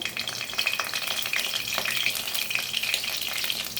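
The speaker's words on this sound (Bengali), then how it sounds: "এরপরে বন্ধুরা এই দেখুন, শুকনো লঙ্কা দিয়ে দিলাম ফোড়নে" Dried red chilies sizzle and crackle steadily in hot mustard oil as a tempering for potato and poppy-seed cooking, with a dense continuous hiss and scattered pops throughout.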